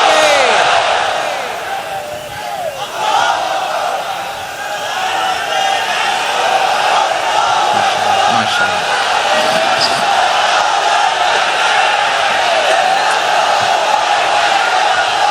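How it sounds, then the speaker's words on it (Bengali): A large crowd chanting takbir (Allahu Akbar) at a religious gathering: a loud, sustained roar of many voices that swells and holds steady, filling the whole span. "তাকবীর পড়ুন, লিল্লাহি তাকবীর।"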